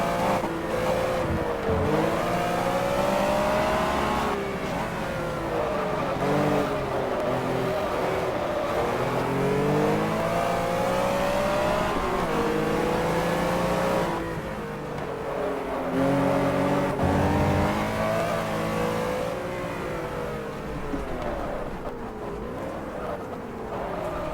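Racing car engine in the GT Legends video game, loud and continuous, revving up and down through gear changes with sweeping pitch rises and drops, heard alone without talk.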